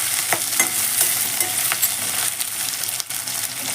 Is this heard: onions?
yes